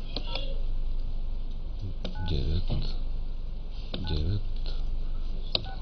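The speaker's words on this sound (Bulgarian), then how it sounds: "аз се опитам тук да набера един телефон" Telephone keypad tones sound as a number is dialed, a series of short electronic beeps at irregular intervals over a steady line hum, with someone speaking between the presses.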